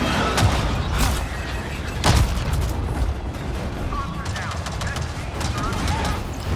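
Gunfire and explosive blasts in the video game Avatar: Frontiers of Pandora, a steady stream of shots with two louder booms near the start, under a dense layer of game effects and music.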